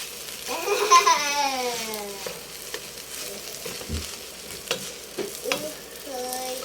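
Leftover rice being stirred and fried in a non-stick pan with a utensil, steady sizzling under repeated scraping strokes, with a voice briefly heard in the background.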